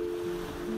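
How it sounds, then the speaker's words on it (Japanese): Strong surf at Kanehama beach on Tanegashima, a well-known surfing spot, heard as a brief, loud, continuous wash of breaking ocean waves with a low rumble. "ここはすごい波。"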